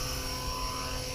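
A Blade SRX200 RC helicopter hums steadily in flight with an even, close motor and rotor drone, with no other sounds and no voices.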